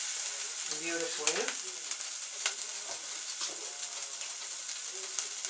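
Meatballs browning in a pan for spaghetti sauce give a continuous close sizzle with occasional sharp crackles and pops, no talking.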